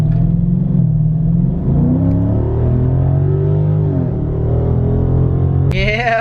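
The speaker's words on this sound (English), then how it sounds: "active exhaust is pretty sweet in these cars" A 2019 Dodge Challenger Scat Pack's 392 V8 with active exhaust revs up and down in loud, deep sweeps, the pitch rising and falling, ending in a sharp higher burst.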